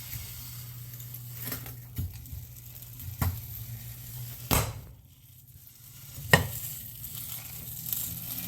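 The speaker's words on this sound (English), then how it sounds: "you're just going to fry your bacon" Bacon fries in a pan with a faint, steady sizzle under a low hum, broken by a few sharp pops and clicks from stirring.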